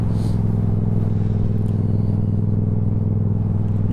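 A car rumbles steadily close by on the road, a constant low engine and tyre drone filling the whole stretch without a break.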